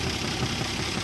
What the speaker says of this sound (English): It's a super quiet engine.